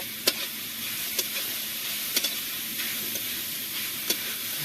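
Grated carrot halwa with milk roasts in a pan, making a steady sizzle and hiss while a spoon scrapes and stirs at intervals, close up with no talking.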